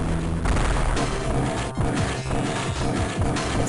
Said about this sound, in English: Keep hearing explosions.